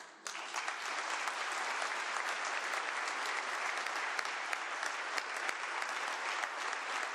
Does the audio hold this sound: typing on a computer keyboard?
no